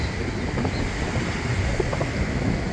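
Waves wash steadily onto the sand at Long Bay Beach in Warwick, Bermuda, heard from a hilltop as a continuous broad surf roar mixed with wind noise on the microphone, with no talking.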